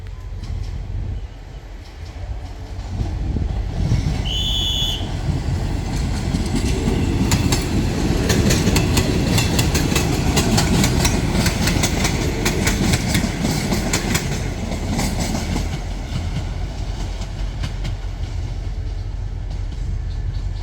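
A train passes on a Thai State Railway line at a station, probably a freight or diesel railcar service; a loud, steady rumble rises with rhythmic clickety-clack of wheels over rail joints, a brief high squeal or horn tone near the start, continuing throughout.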